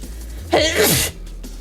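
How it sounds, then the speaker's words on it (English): A single loud, close sneeze during home cooking, rising into a sharp burst and fading quickly against a quiet room. "The dipping made me sneeze"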